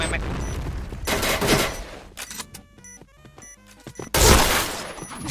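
A grenade goes off with a loud blast in the game Point Blank on the BlowCity map, and bursts of gunfire and crashing sounds follow. Muffled voices talk underneath.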